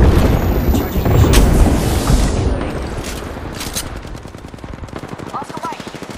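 Rapid automatic gunfire in the shooter game Apex Legends, dense bursts of close, loud shots with booming impacts that thin into a quicker rattle toward the end, no talking.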